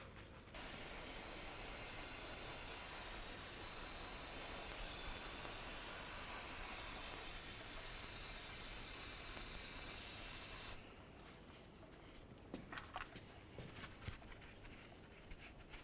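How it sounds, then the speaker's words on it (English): Aerosol parts cleaner hisses in one loud, steady blast for about ten seconds onto the power steering rack of a 2003-2011 Mercury Grand Marquis, then cuts off, leaving faint quiet handling noises. "we'll use some parts cleaner and clean everything down"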